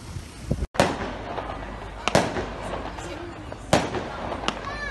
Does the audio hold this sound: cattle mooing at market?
no